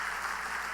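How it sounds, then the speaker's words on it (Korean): Brief burst of congregational applause during a Sunday worship service at a Korean church, a steady even wash of clapping heard alone without talk. "다시 한번 박수 한번 하십시다."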